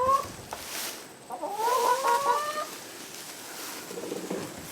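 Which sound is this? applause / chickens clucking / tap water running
chickens clucking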